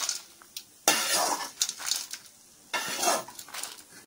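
Coriander seeds and cumin dry-roasting in a pan, heard as two bursts of scraping and rattling from stirring, with clinks of a utensil against metal, close and fairly quiet with short pauses between.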